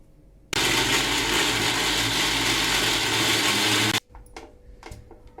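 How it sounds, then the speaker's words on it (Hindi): An electric mixer grinder (mixie) grinds chopped onions into paste in a home kitchen, a loud steady motor whir running alone for about three and a half seconds, then stopping abruptly and leaving faint clinks. "अब हम सबसे पहले इस तरह प्याज को काट के मिक्सी में पीसकर इसका पेस्ट बना लेंगे।"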